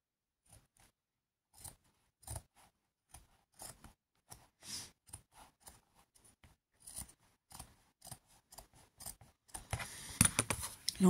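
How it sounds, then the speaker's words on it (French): Scissors snip through paper while a scrapbooking page is trimmed, a series of short, crisp, quiet cuts at irregular intervals, ending in a louder burst of rustling and handling. "mes ciseaux commencent à moins bien couper"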